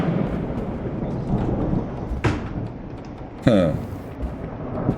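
Thunderstorm in the horror game Escape The Backrooms: a steady rumble of rain and low thunder under a player's voice, with two sharp bright thunder cracks breaking through.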